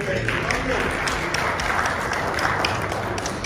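Dense, continuous applause from an audience at a dinner event, loud and steady throughout with no pauses.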